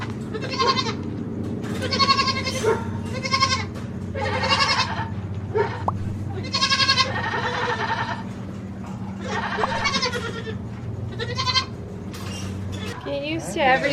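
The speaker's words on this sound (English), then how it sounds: "she's actually gonna drop off our new baby goat for us" Goats bleat repeatedly on a farm, a series of loud nearby calls in short bursts over a low steady hum, with a voice briefly heard near the end.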